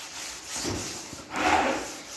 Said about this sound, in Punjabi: ਹੁਣ ਆਪਾਂ ਇਹਨੂੰ ਹਲਕੇ ਹਲਕੇ ਹੱਥਾਂ ਦੇ ਨਾਲ ਦਰਦ ਰਬ ਕਰ ਦਾਂਗੇ